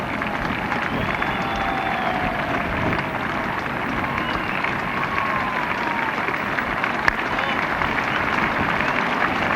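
A cricket crowd at the Oval during the 1974 England versus Pakistan Test applauds a boundary, a dense, steady wash of clapping and crowd noise that holds throughout, with a commentator talking over it.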